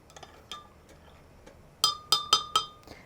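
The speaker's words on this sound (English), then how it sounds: "Give it a stir." Sharp glassy clinks from stirring a liquid solution into baking soda for pretzel bites, a few faint taps followed by four louder, evenly spaced strikes, with no talking.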